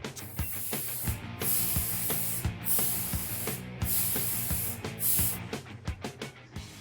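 Close, loud hissing from an aerosol spray paint can coating a 1993 Dodge W350 Cummins dually truck part, sprayed in sweeping passes broken by short gaps and faint clicks.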